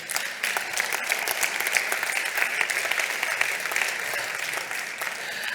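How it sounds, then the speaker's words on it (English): Big, continuous round of applause from the audience at a Mission Soil Week afternoon session, a dense even patter of many hands, loud and unbroken for several seconds. "Give yourselves a big round of applause for being motivated."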